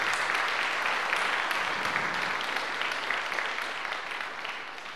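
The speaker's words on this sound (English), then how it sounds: "Just give a round of applause." A church congregation at a candlelit carol service applauds with steady, dense clapping that fades slightly toward the end, with no voices on top.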